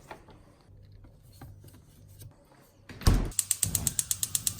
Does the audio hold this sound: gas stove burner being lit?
yes